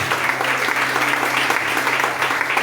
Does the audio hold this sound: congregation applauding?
yes